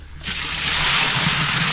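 Wet cement mix poured around fence posts, a steady broad rushing slosh that starts abruptly and holds loud and even.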